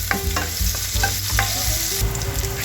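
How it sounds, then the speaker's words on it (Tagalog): Garlic sizzles in hot cooking oil in a pan while being stirred, a close, steady crackling fry with scraping and clinks from the utensil and no talking. "Maglalagay tayo ng mantika. Then ang bawang."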